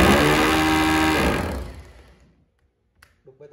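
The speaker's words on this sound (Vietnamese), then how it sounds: "Khoan bê tông này." A 220V electric rotary hammer set to concrete-drilling mode runs with a loud, close buzzing motor roar, then winds down to silence, followed by a few light clicks of handling.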